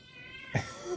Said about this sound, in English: Wow, that's a loud meow.